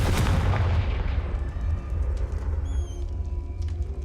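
A Confringo fire spell in Hogwarts Legacy bursts with a loud, booming blast that rolls off into a rumbling decay, with faint high whistling tones near the end.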